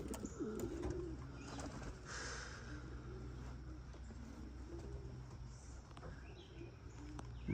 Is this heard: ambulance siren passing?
no